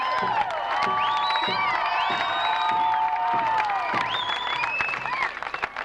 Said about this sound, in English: Let's have a clap for runners.